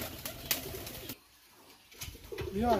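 Pakistani high-flying pigeons coo close by in a few short, low throaty calls broken by a brief quiet gap. Faint rustling sits underneath, and a sharper call rises near the end.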